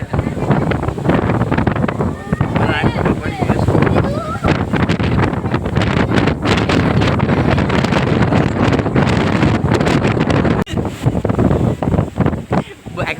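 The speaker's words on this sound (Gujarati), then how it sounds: "પવન જ એટલો આવે છે" Strong stormy wind buffets the microphone near Bhavnagar, producing loud continuous roaring gusts with rumbling low-end blasts that rise and fall, while people talk under the noise.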